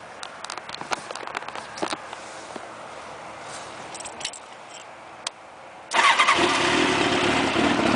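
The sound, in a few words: motorcycle engine with drilled exhaust pipes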